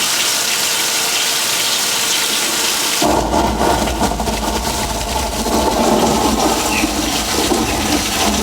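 A simulated thunderstorm on a Universal Studios Hollywood set in Old Mexico, with sprinkler rain hissing steadily before a sudden, loud thunder rumble from speakers bursts in and rolls on beneath the downpour.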